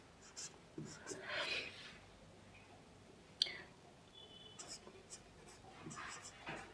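Pen scratching on paper while working a class 10 trigonometry problem with the Pythagorean theorem: faint, close strokes and scratches in short bursts, with a sharp tap midway and soft breathing in a quiet room.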